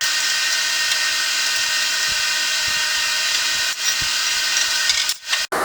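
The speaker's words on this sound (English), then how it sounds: "clamp it in the saw and get a nice straight," A saw cuts through a steel part for a homemade drill press, a steady loud hiss-like grind running continuously with faint periodic knocks beneath, ending in a brief dropout.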